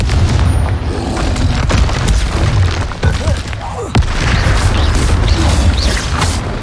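Confringo fire spell exploding during combat in a Harry Potter video game, dense repeated booming blasts and crashes one after another, loud and close, with brief voice-like bits in the mix.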